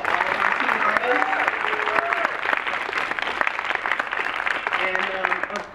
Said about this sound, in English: Can we all give a round of applause to all of our team artists?